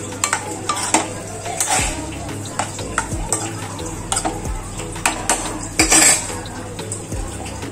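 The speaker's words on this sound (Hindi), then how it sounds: "अभी हम इसे अच्छी तरह से मिक्स कर रहे हैं।" A spoon stirs boiled chawli into lobia curry in a metal pan, scraping and clinking in repeated strokes over a soft steady sizzle, close and fairly loud, with no talking.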